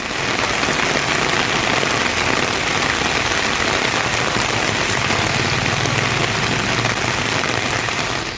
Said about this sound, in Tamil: செம்மஞ்சேரியிலும் கனமழை பெய்தது